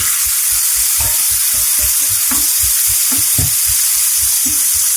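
Chopped tomatoes hit hot oil in a pan while egg curry is being cooked, giving a loud, steady sizzle with intermittent stirring clatter from the spoon against the pan.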